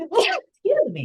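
A single sharp sneeze bursts out close and loud, followed after a brief pause by a person speaking.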